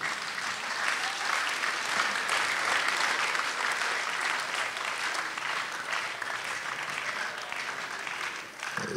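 A concert audience applauds a Kimbanguist brass band in Brazzaville with dense, sustained clapping that stays loud and even for the whole stretch and dips only slightly near the end.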